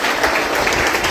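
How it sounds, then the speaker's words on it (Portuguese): A church congregation at a Mother's Day service breaks into loud, dense applause, many hands clapping together in a brief close burst. "Eu salvo de palmas para elas de novo."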